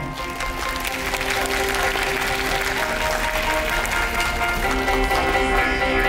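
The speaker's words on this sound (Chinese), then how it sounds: "来，请现场观众给最热烈的鼓掌。" Applause from a live audience at a national bodybuilding championship, a loud, dense, sustained wash of clapping with steady crowd noise throughout.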